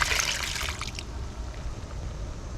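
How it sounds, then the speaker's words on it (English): Tap water splashing at a kitchen sink as homemade butter is rinsed, a hissing stream for about a second that then drops to a faint trickle and quiet room tone. "we rinse the butter until it's clear"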